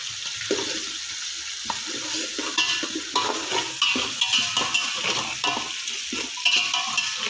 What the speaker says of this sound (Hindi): आलू मटर को 1-2 मिनट हल्का सा फ्राई कर लेंगे।